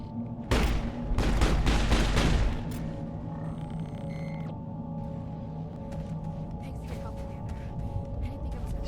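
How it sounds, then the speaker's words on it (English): Pistol fire from the video game Mass Effect, a rapid burst of several loud, closely spaced shots over about two seconds, then quieter game ambience with a low hum and faint electronic tones. "And he's shooting me."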